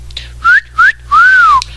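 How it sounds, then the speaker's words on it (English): Three clear whistles: two short rising chirps followed by a longer arching tone, close and loud. "Have those whistle calls"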